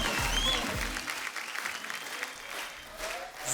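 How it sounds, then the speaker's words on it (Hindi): Studio audience applause welcoming A. R. Rahman on a comedy talk show, a steady, fairly soft wash of clapping that holds throughout. "आप सबकी जोरदार तालियों के बीच स्वागत करना चाहूंगा"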